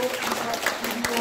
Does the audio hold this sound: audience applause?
yes